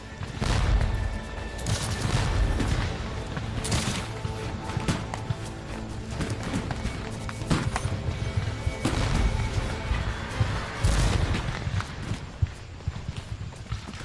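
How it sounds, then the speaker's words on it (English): Union musket volley fire in a Gettysburg battle scene, sharp crackling shots scattered irregularly over a dense rumbling din with hoofbeat-like clatter, loud and continuous throughout. "the crash of Union muskets breaks out on our right"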